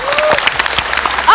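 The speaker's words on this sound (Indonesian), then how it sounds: "Ya, kita beri tepuk tangan." Audience applause for a self-reliant person with a disability, steady close clapping that runs throughout, with a voice speaking briefly over it.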